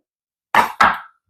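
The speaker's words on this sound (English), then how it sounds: "Just chopping up the ginger." Two quick, sharp knife chops through ginger on a cutting board, close and distinct, with nothing else around them.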